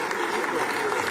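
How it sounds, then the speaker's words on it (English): Brief audience applause at a Nigerian newspaper's 70th anniversary celebration, a dense, steady wash of clapping lasting about a second, with speech mixed in. "Please keep clapping, keep clapping,"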